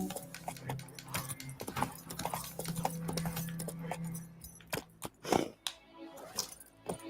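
Roach the horse trots along a cliff path in The Witcher 3, hooves clip-clopping in a quick uneven rhythm with jingling tack, fairly close over a low ambient drone.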